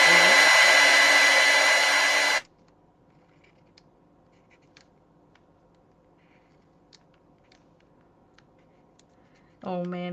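A hair dryer blows loudly at close range onto a sketchbook page for about two seconds, cuts off into near silence with faint clicks, then switches back on at the end.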